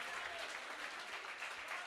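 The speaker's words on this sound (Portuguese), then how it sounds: "Dê para Jesus a sua melhor salva de palmas" A church congregation breaks into sustained applause, a dense, even wash of many hands clapping at full volume throughout.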